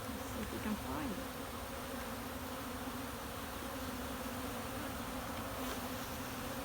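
A steady, dense hum of honeybees at a hive drones on throughout, with a few individual bees buzzing close past the microphone near the start.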